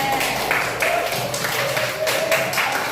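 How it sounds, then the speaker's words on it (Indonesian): A classroom applauds a student group after its presentation, a steady patter of many hands clapping at moderate loudness, with a faint voice underneath. "Beri tepuk tangan untuk kelompok 3."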